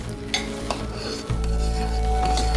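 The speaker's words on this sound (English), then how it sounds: "the pot is much more full because it is boiling over" Hot process soap batter in a pot, swelling up and boiling over: a steady bubbling, sizzling churn with occasional stirring scrapes, growing fuller and louder partway through, no talk.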